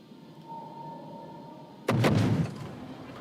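In the World of Warships naval game, a warship's guns fire a single loud salvo of HE shells. The sharp boom breaks a quiet engine hum and trails off into a rumbling echo.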